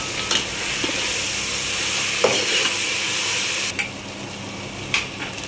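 A spoon stirs cumin powder into a vegetable biryani mixture in a hot pan, a continuous loud sizzle and hiss broken by a few scattered scrapes and clicks of the utensil.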